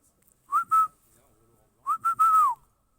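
Referee's whistle blown at a football match in the Olympique Lyonnais stadium: two sharp short blasts, a pause, then three more with the last held longer, loud and clear over quiet surroundings.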